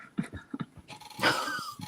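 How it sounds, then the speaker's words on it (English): Dog barking and yipping in short bursts, fairly close, with breathy whines between them. "Dog is going crazy."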